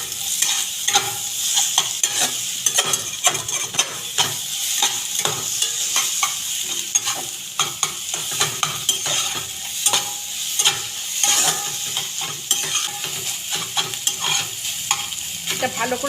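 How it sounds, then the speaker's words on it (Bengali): Egg bhujia fries in a pan and is scrambled with a spatula, a steady oily sizzle broken by repeated scraping and tapping strokes at an irregular pace, close up and without talk. "এটা ভালো করে ঝুরঝুরে করে আমি ভেজে নেব।"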